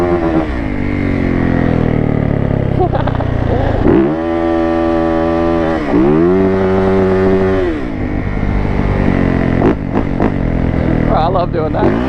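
A Yamaha YZ125 two-stroke supermoto revs loud and close while its rear wheel spins on muddy off-road ground, the engine rising and holding in sustained buzzing bursts, with brief speech around it.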